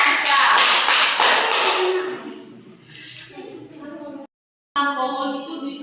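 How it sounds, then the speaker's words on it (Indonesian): A classroom of students gives a short burst of clapping for a classmate that fades after a couple of seconds, followed by a teacher's voice speaking. "mari kita beri aplaus kepada anak kita"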